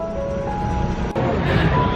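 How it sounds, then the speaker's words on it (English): Busy road traffic in Istanbul makes a dense, steady roar of passing vehicles with a faint tonal whine running through it. A brief dip comes midway, and no one talks. "Traffic is absolutely insane, but it's fine."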